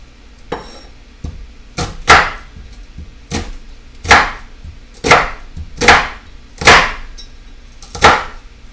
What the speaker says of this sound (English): Let's chop those onions up.